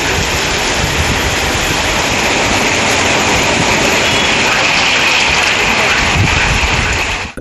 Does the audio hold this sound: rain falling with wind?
yes